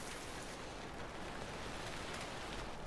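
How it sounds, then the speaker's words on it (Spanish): Steady rain in the video game Death Stranding, a constant broadband hiss of falling drops that stays even and unbroken throughout, with no speech. "Yo creo que la lluvia va a caer en todos lados igual."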